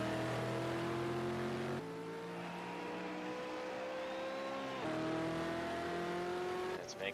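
V8 Supercars roar around Circuit de Barcelona-Catalunya in a sim racing game, the engine note droning steadily and shifting pitch through gear changes, with faint tyre noise, heard at low level.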